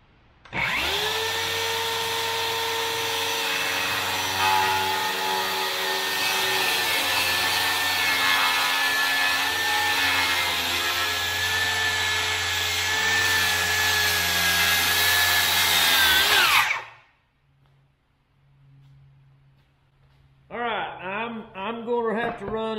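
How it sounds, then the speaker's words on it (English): A DeWalt Flexvolt battery saw or corded saw cuts through wood in one long, loud, steady whine lasting about fifteen seconds, then stops abruptly; after a brief quiet a person begins talking. "we're gonna cut, if I can cut two lines with each saw, we'll cut two"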